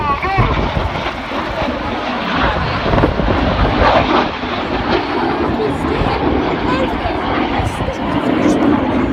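Loud, continuous roar of Red Arrows synchro pair jets passing close at an air show in Cosford, a broad sustained rush filling the whole clip, with crowd voices mixed beneath.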